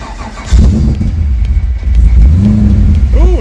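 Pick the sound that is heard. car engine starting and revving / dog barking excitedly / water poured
car engine starting and revving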